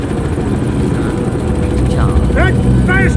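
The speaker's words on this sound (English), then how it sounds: "Send the chopper over to soften him up" A helicopter drones loud and close throughout in the video game Manhunt 2, its rotor a continuous low roar, with short voice fragments over it.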